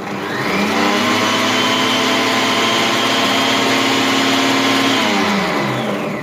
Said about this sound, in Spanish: Vamos a darle un golpe de turbo.